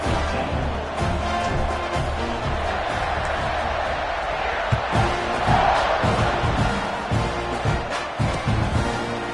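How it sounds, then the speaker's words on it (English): A football stadium crowd buzzes after a score at a college football game, a dense, steady roar of many voices with scattered shouts and claps, loud and continuous throughout. "this crowd is buzzing after that last score"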